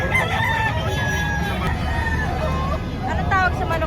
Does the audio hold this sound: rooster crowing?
yes